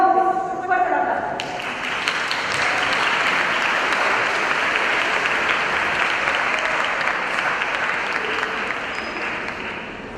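Loud audience applause for a speaker at a public speaking contest, starting as a voice finishes and swelling into a sustained, dense clapping that tapers slightly toward the end.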